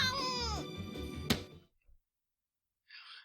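A cat in the visual novel game The Fruit of Grisaia meows in a long, rising and falling cry, loud and close, followed by a short thump, near silence and a faint rustle.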